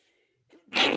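A single sharp human sneeze bursts out loudly and close at the end, preceded by a brief quiet intake of breath, with near silence before it.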